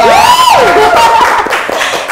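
A Telkom University gathering breaks into loud applause and cheering, with a rising, sliding whistle-like cry at the start over brisk, close clapping.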